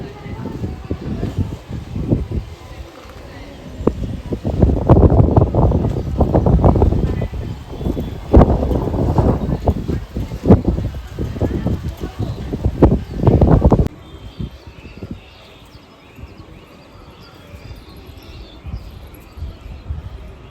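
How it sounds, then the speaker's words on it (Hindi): Strong evening wind storm gusts and roars around a house, with rustling and buffeting microphone noise for much of the span before easing to a softer, steadier blow near the end. "हमारे यहाँ इतना आंधी तूफान आया था"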